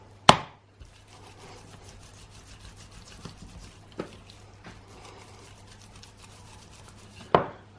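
A knife trims fat off a beef steak on a board with quiet, steady slicing, framed by a couple of sharp knocks at the start and end.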